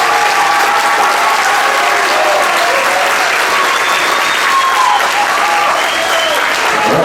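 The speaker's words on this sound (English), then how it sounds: "Maybe give our 7th grade band a round of applause." An audience at a middle school end-of-year band concert gives the seventh grade band a sustained, full round of clapping, even and loud throughout with a few scattered voices beneath.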